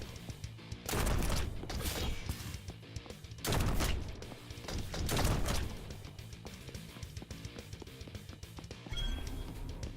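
A shotgun fires in the action video game To Hell With Hell, with three loud, separate blasts spaced a couple of seconds apart over quieter in-game background noise.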